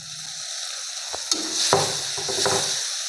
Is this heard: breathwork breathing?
no